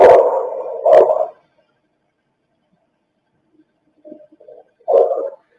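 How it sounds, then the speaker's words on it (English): Dog barking on a played-back recording, two short muffled barks close together, a long silence, then faint murmuring noise and one more bark of the same kind. "Now here's a dog."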